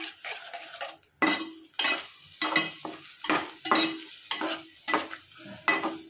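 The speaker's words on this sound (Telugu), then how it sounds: "బాగా కలుపుకోవాలండి." Egg bhurji, an Indian scrambled egg fry, is stirred in a frying pan, giving repeated scraping strokes of a utensil against the pan in a steady rhythm over a soft sizzle, close and clear with no talking.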